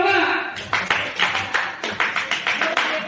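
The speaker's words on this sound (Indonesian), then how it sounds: "Tepuk tangan. Tepuk tangan. Tepuk tangan." Classroom group clapping in a steady rhythmic pattern of sharp claps, following a teacher's call at an Indonesian school session, with voices mixed in.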